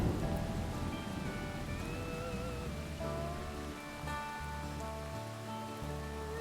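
Steady rain hisses down throughout from a thunderstorm close by in the Sandia Mountains at nearly 10,000 feet, a dense continuous wash with faint higher tones running through it.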